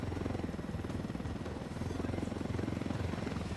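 A helicopter in Ghost Recon Wildlands drones steadily with a loud, close rotor chop pulsing in rapid, even rhythm throughout, with no speech over it.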